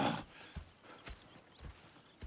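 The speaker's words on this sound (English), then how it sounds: "Go check the horses are ready." Horse hooves clip-clop at a slow walking pace in the Red Dead Redemption 2 video game, with about five soft, even hoof strikes at moderate distance and no talk.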